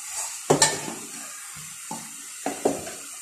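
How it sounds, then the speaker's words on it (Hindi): Ghee goes into a pan of carrot halwa, with a few sharp clinks of a spoon against the pot and soft stirring, sizzling and scraping in short bursts. "घी डाल दिया"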